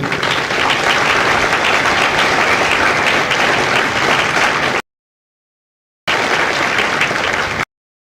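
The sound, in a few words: applause for Marine families at graduation ceremony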